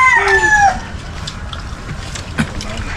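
A chicken gives a short, loud call right at the start, followed by quieter rustling and outdoor background noise.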